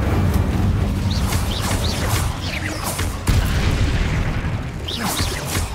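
Incendio fire spell cast in Hogwarts Legacy, a loud dense roaring burst with crackling whooshes and sharp flaring accents, sustained for several seconds with a sudden jolt midway.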